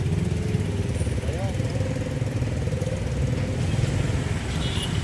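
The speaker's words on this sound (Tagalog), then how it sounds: "mga motor kanya-kanyang singit" Motorcycles weave through heavy traffic in Cubao, Quezon City, their engines forming a steady, dense buzzing drone that runs the whole time, with faint voices mixed in.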